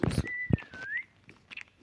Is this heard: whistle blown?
yes